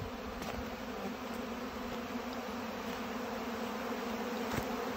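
Honey bees swarm and rob out old hive frames by a beekeeping shed, a steady, dense buzzing drone filling the air throughout, with occasional louder individual bees passing close.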